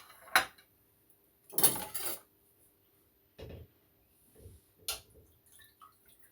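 A knife works through cold beef tongue on a board, giving a few separate scraping, clattering strokes with quiet pauses in between, close and fairly soft.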